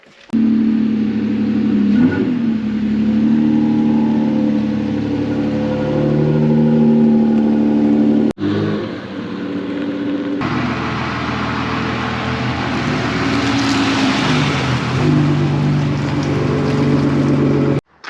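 Jeep Gladiator engine running as the truck pulls out of a garage, a loud steady engine drone with shifting rumble and a brief break midway, continuous and close.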